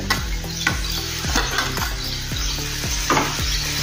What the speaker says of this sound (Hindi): अभी इसमें हम जो फ्लावर था अपना उबाला हुआ वो इसमें डाल देंगे।